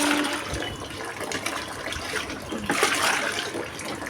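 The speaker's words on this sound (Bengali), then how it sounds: "আর এখানে কিন্তু আমি জলগুলো ভরে নিচ্ছি।" Tap water runs steadily into containers at home, a continuous rushing, splashing stream that swells briefly near the end.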